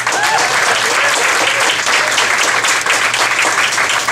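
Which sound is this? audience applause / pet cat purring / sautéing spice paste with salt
audience applause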